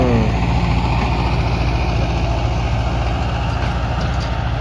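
A farm tractor idles steadily nearby, its low engine rumble constant and loud throughout with no talk over it.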